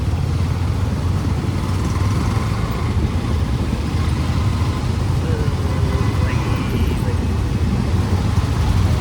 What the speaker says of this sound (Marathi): ट्रॅफिक खूप आहे भाई